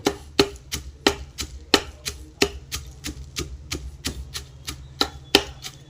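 Steady pounding in a heavy stone mortar while making kozhukattai filling, sharp thuds repeating roughly every half second, close and alone with no talking.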